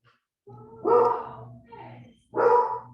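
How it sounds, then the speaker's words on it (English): Several house dogs excited by passing cars or people bark indoors, two loud close bursts with a softer yip between them, heard in a quiet room. "Sorry, I have 3 dogs at home, and so they get excited when cars or people drive by."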